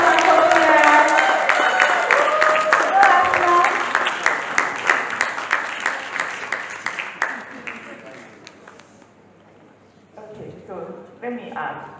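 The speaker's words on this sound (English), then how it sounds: "With a round of applause, I think we can do better." A conference audience at a nonprofit storytelling talk bursts into loud sustained applause welcoming a speaker, the clapping gradually thinning and fading before a few scattered claps and voices return near the end.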